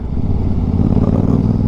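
A lightweight motorcycle in the under-3.5-lakh class rumbles steadily while being ridden, its low engine drone loud and close throughout with no talk over it.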